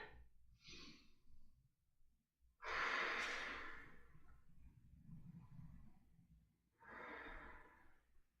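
A person holding a crescent lunge yoga pose breathes slowly and audibly close by, with a few long exhales and quieter inhales spaced across the pauses.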